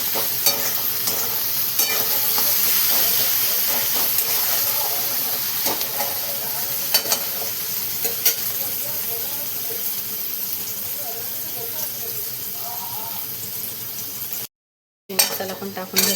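Onion with salt and spices fries in a pan, giving a steady close sizzle and hiss with occasional stirring scrapes, continuing for most of the time before a brief dropout near the end.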